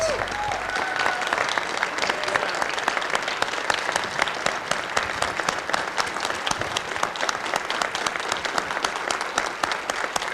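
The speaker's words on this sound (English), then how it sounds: "Another round of applause" A large audience at a community show keeps up strong, sustained applause for about ten seconds, many hands clapping in a dense, even roar heard up close.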